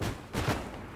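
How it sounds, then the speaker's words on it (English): Booming cannon fire from a tank in the World War II shooter Hell Let Loose, two heavy blasts close together amid a rumbling battlefield din, loud and near. "Kill the tank! Oh my god, it's shooting at me!"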